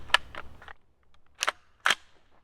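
Suppressed gunshots from a rifle firing 55 grain frangible rounds into dirt, heard as a quick string of three sharp reports followed by two more after a short pause, crisp and close.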